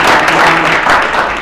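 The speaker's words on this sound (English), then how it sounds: "Let's give a big round of applause." Loud, dense applause from a crowd, steady clapping filling the whole short stretch.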